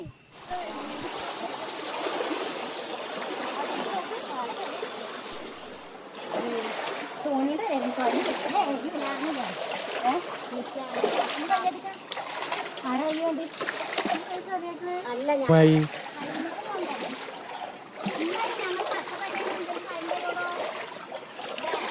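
Continuous water splashing and churning close up as people swim, with voices talking over the steady wash of moving water.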